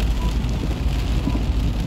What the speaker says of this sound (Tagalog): Kusog kaayo ang ulan dere.